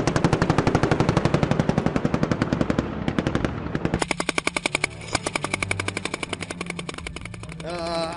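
Sustained bursts of automatic gunfire during a special forces training exercise, loud and dense, with a brief lull before a second rapid rattling stretch of shots.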